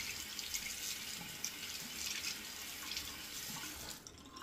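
Water runs steadily from a bathroom tap while a razor is rinsed under it, a close, continuous hissing splash with slight shifts as the blade moves through the stream.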